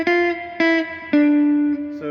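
Guitar plays the second phrase of a riff, four plucked, ringing notes in a short descending-then-rising pattern, each sustaining briefly, close and alone.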